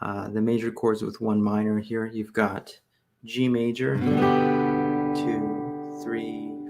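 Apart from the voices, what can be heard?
No everyday noises stand out.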